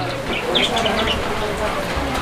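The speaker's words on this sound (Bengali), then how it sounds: "দেখেন কবুতর ডাক" A fancy pigeon at a breeding farm gives a short burst of soft cooing, close by and fairly clear, with faint background murmur.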